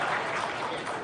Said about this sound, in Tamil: இவருக்கு ஒரு நல்ல கைத்தட்டல் கொடுத்துடலாம்.